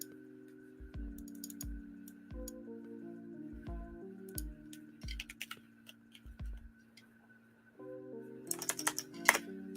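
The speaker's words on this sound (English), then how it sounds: "you just type in your email" Keys clatter on a computer keyboard as an email address is typed into a GitHub sign-up form, with bursts of clicks separated by short pauses and a faster flurry at the end, close and quiet.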